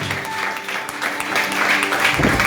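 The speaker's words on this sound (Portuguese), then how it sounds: "Você que acredita, aplaude o Senhor nesta manhã." A church congregation claps together in a loud, continuous burst, with voices mixed in beneath the applause.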